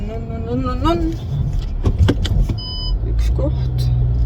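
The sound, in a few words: car manoeuvring into a parking spot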